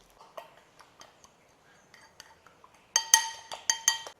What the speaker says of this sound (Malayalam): ഈ ഒരു അലോവേരയ്ക്കകത്ത് മിക്സ് ചെയ്യുക